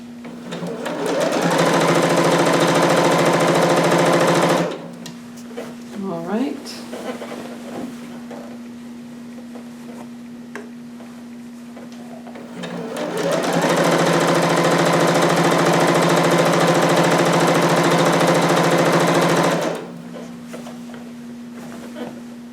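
A sewing machine stitches fabric in two loud, steady bursts of rapid mechanical whirring, separated by a quieter pause while the fabric is turned, with a faint hum underneath.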